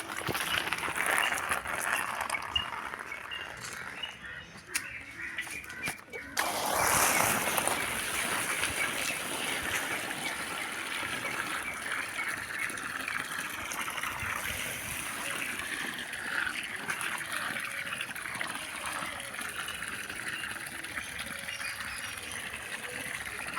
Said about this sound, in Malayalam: ഞങ്ങൾക്ക് മോട്ടറിൽ നിന്ന് വെള്ളം അടിക്കാം